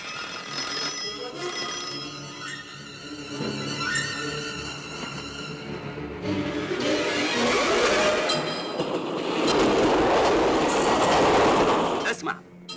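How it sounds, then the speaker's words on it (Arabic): Train passing on railway tracks, a bell-like ringing tone fading into a loud rumbling roar with rhythmic clatter that builds close by and then cuts off. "القطر خلاص عدى"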